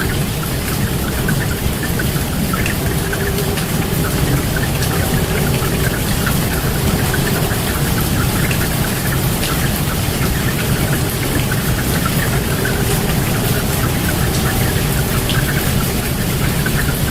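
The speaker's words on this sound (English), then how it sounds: "Rain pours down on pilgrims as storm lashes Makkah." Heavy rain pours steadily and loudly during a storm in Makkah, a dense unbroken hiss of drops hammering surfaces, with a low rumble underneath.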